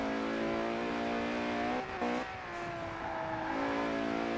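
A Mercedes tuned as a Brabus in Forza Horizon 4, with power biased about 80% to the rear wheels, holds a steady, loud engine drone that briefly dips and shifts pitch, then climbs again, with no voices.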